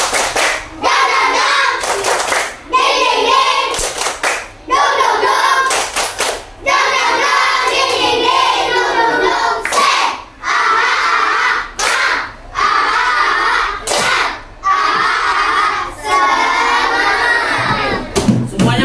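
A class performs the tepuk semangat version 2 clapping chant, rhythmic group handclaps in patterned bursts separated by brief pauses, with children shouting along and loud, close sound throughout.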